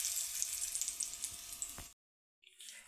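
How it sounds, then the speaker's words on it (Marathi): Mustard seeds, cumin and curry leaves crackle and sizzle in hot oil as a tempering poured over chutney, a dense close sizzle that stops abruptly, then returns faintly. "मस्त असं बघा चुरचुरीत मस्त फोडणी बसते"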